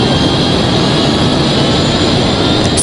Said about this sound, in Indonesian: Suara mesin berubah.